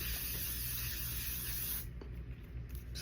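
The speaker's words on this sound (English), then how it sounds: "using my favorite L'Oreal 36 hour. This stuff is amazing. This 3-second setting spray." L'Oreal 36 hour setting spray misted onto a face in a steady, close, continuous hiss lasting a few seconds before easing slightly, with no talking.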